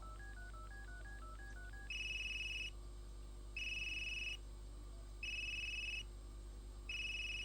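A phone in the video game Unheard rings after being called: a quick run of dialing tones, then a repeating electronic ring in even bursts with pauses between, clean and fairly quiet with no talking.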